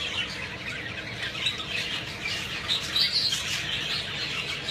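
Young budgerigar hens in a bird room chatter with continuous chirps and squawks, a busy layered flock sound at moderate distance, no talking.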